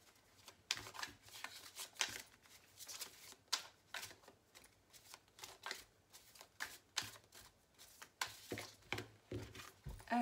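Cards from an oracle deck being shuffled and handled for a reading, a long run of soft papery riffles and slides, close and moderately loud, coming in repeated bursts with no talk.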